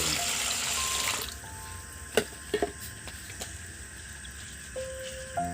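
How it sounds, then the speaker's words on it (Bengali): Rice being washed in water: a steady rush of pouring water at first, then quieter splashes and a few light knocks against the bowl, close and alone. "ভালো করে এটাকে ধুয়ে নেবো পুরা জলটা ফেলে দিয়েছি দিয়ে আবার দিচ্ছি"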